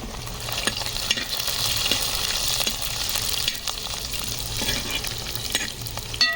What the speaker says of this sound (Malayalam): ഇവിടെ തന്നെ നമ്മുടെ ഇഞ്ചി പച്ചമുളക് ഇട്ട് കൊടുക്കാം